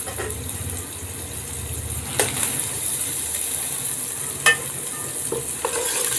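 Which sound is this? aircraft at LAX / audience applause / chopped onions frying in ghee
chopped onions frying in ghee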